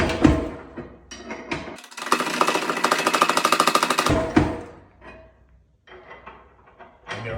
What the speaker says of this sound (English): Now it's time to shake the fire down.